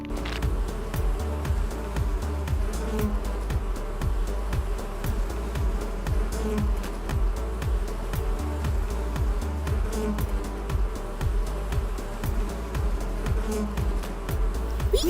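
Cartoon bees buzz continuously, a dense droning hum with rapid pulsing flutter that stays steady and close throughout, with no voices over it.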